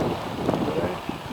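Strong wind on a cold day buffets the microphone in a loud, continuous low rumble that fills the whole moment.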